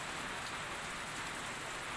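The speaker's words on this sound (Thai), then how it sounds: "นั่งอยู่ในนี่เหมือนฝนตกจริงเลยครับ" Steady rain patters down continuously, heard from indoors at a noodle shop, a dense even hiss with no voices.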